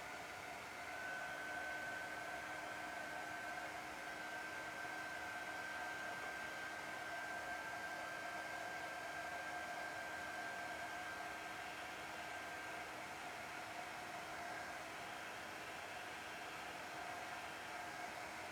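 A dryer blows air over a small Valentine's craft sign, a steady, even whooshing hum with a faint whine that holds unchanged throughout, fairly quiet and with no talking.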